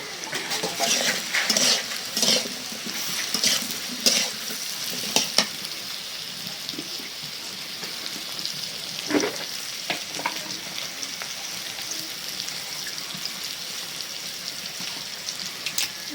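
Potatoes frying in oil in a pan with onion being added, a steady close sizzle with scraping stirs in the first few seconds, then settling into an even, continuous crackle with no talking.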